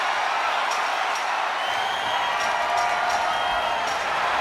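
A broad, steady arena crowd roar rises from a wrestling event in the WWE 2025 video game, sustained and fairly loud with scattered sharp bursts of cheering and no talk over it.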